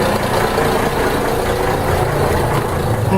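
Steady idle of a DAF 575 diesel engine in a 1973 Dutch steel cruiser, a keel-cooled installation in a 13.8-metre boat, a continuous low rumble running evenly and close throughout.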